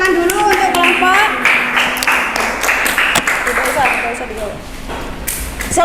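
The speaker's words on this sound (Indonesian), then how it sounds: "tepuk tangan dulu untuk kelompok" A classroom group claps for a group that has just presented, with quick irregular hand claps under a teacher's speaking voice and scattered chatter.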